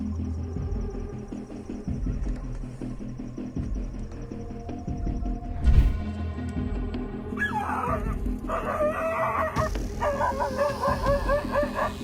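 Dog yelping and whimpering in fear as it is attacked by a pregnant jaguar on a porch, with shrill cries and barks rising over background noise, growing more frantic toward the end.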